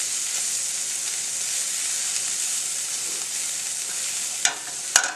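Melting butter sizzles and hisses steadily in a frying pan, a continuous bright crackle close by, with a couple of sharp clicks of a utensil stirring near the end; no talking.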